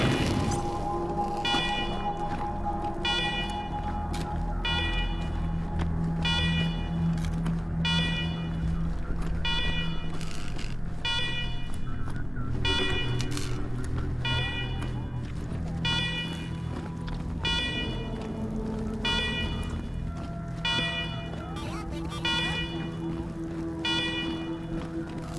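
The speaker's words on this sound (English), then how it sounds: "Alarm! Alarm! Alarm! I hate alarm!" Alarms blare in Wasteland 3, a repeating pulsed electronic tone cycling steadily over game ambience and clattering action, with voices calling out beneath it.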